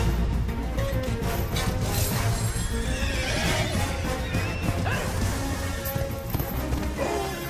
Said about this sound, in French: DreamWorks, c'est le studio qui a créé le cheval le plus connu du monde, Spirit.